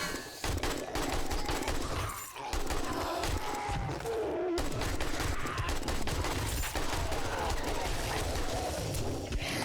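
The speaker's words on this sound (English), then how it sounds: "we're going straight in with the big gun" Heavy gunfire erupts in the survival game 7 Days to Die, with rapid, dense bursts of shots sounding almost continuously and a short break partway through.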